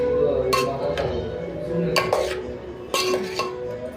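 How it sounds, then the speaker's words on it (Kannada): Bottle gourd palya frying in a pan on a low flame and stirred, with metal spoon scrapes and clinks against the pan in uneven bursts over a steady low cooking background. "ಚೆನ್ನಾಗಿ ಫ್ರೈ ಆಗ್ತಾಯಿದೆ ತಿರುಗಿಸ್ತಾನೇ ಇರಬೇಕು ಸ್ವಲ್ಪ ಹೊತ್ತು"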